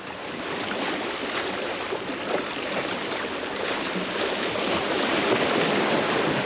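Rough, agitated sea surf churns in a steady broadband roar with rising wind buffeting the shoreline, growing slightly louder toward the end, no voices.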